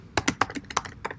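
Close, crisp keystrokes as JavaScript code is typed on a computer keyboard, around ten quick taps in an uneven rhythm with no talk.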